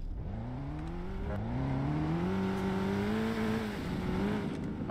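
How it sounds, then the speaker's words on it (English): A car engine hums steadily and climbs in pitch, revving up with a continuous rising whine and rumble, close and fairly loud throughout. "Stop revving, bro."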